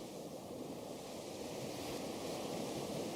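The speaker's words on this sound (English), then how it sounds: "the water is far rougher, the waves are far higher" Rough ocean waves rolling and crashing on an island shore under a stormy sky, a steady broad roar of surf with wind, fairly faint and distant, no voices.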